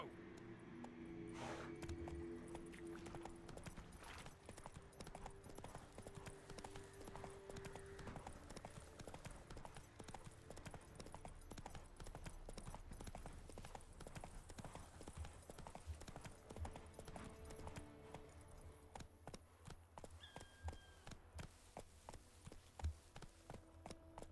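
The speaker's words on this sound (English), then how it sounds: "Come on, horsey. Come, Roach. We have things to do." Horse hooves clip-clop steadily in Witcher 3, an even trotting rhythm of close, moderately loud hoofbeats over game ambience for the whole stretch, with a faint snort or whinny early on.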